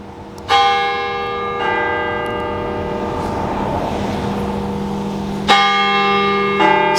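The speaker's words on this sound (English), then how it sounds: "There's the church bells." Church bells ringing out over a small Louisiana town street in Abbeville, loud resonant strikes at uneven intervals, each leaving a long humming decay with faint street ambience between.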